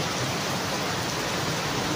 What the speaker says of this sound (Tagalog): Dahil lakas ng ulan